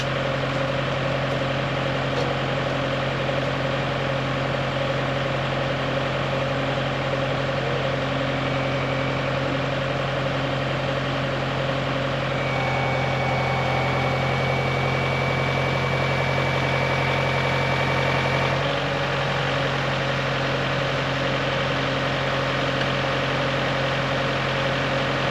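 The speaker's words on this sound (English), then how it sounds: "I am right at 1200 RPMs on the tractor." A Kubota L4060 tractor engine idles steadily at 1200 RPM, a constant close mechanical hum with a deep throb, running alone for the whole stretch with only a slight shift in tone partway through.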